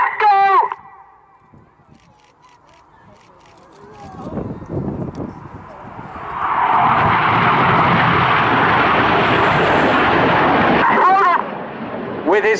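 Red Arrows jets flying the Gypo break at an airshow: a broad jet roar builds from a low rumble into a loud, sustained wash of engine noise for several seconds, with voices at the start and end.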